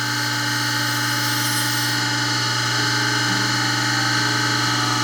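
A Harig 612 surface grinder runs with a steady high whine as its wheel makes light touch-off contact with a carbide end mill shank, the constant mechanical drone holding evenly throughout.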